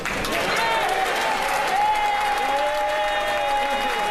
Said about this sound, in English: lots of cheering there from the people who just got rid of him